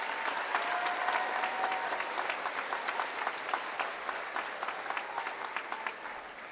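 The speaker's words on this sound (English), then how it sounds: "Let's give a nice round of applause for all the honors graduates" Steady, moderately distant audience applause for honors graduates at an evening university commencement, many hands clapping in a dense wash that slowly tapers off.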